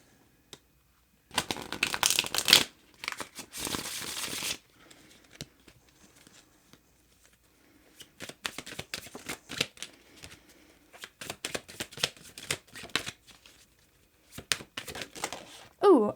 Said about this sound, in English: Let's give this a good shuffle because I feel like it needs it.